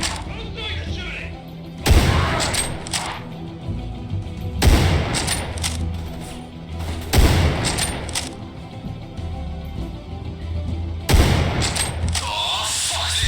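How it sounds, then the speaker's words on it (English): Gunfire in the horror shooter game Underhell comes as heavy, loud bursts and booming volleys in repeated waves, with echoing rattles between them, mixed with game voices and shouting. "Who's doing the shooting?"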